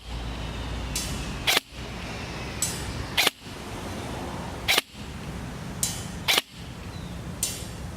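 Airsoft gun with a DTW modified T-HOP and HS+ barrel shooting 0.32 g BBs at a 50 m target outdoors, four crisp snappy shots about 1.6 seconds apart over a constant windy background.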